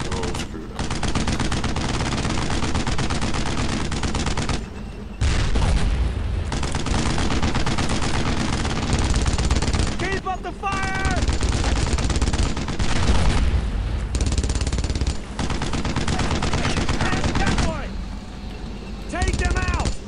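Sustained machine gun fire in the World War II game Brothers in Arms: Road to Hill 30, loud continuous bursts broken by short gaps, with booms and shouted voices mixed into the chatter of rapid shots.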